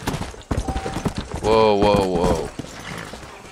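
Horse hooves clip-clopping in the video game Red Dead Redemption, rapid and close, mixed with a long whinny-like cry, game music and a voice speaking briefly.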